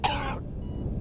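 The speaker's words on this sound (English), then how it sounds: "And now I'm coughing up purple crap." A single short, harsh cough bursts out up close, followed by quiet room noise.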